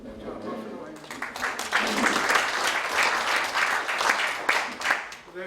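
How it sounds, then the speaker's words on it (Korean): A congregation at a church thanksgiving service for a founding ceremony breaks into applause that swells within a second and holds steady and full, with voices mixed in. "자, 박수로 하겠습니다."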